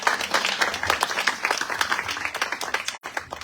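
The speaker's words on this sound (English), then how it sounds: "So everybody, please give Celeste a big round of applause." Dense, steady audience clapping fills a reception room in Hawaii as Celeste Connors is welcomed, with sharp overlapping claps throughout and a brief drop near the end.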